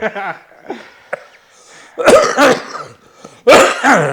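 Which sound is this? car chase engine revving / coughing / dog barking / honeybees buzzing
coughing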